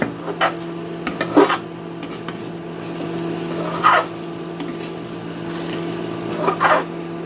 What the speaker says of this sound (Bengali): এখন এগুলাকে আবার আরেকবার একটু নাড়াচাড়া করে দেব